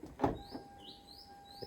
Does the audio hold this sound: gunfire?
no